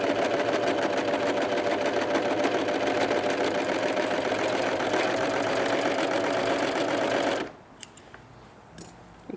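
A Pfaff Coverlock 3.0 overlocker sews a ladder stitch in flatlock mode with a steady, fast mechanical whirr at close range. It runs continuously, then stops abruptly near the end, leaving a few faint clicks.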